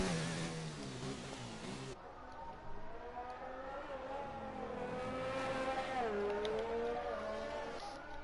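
F1 race car engine on a hot lap in the racing game F1 2019, a high-pitched whine rising and dropping through gear changes, with the pitch climbing steadily toward the end, loud and continuous from an onboard view.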